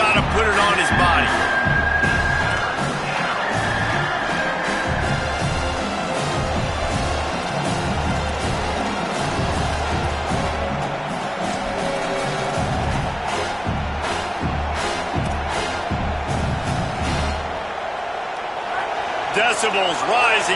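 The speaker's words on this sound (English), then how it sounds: "Decibels rising as the crowd gets behind this defense on third down." A football stadium crowd roars for the defense on third down, a dense sustained cheer that rises in volume beneath a play-by-play announcer talking over it.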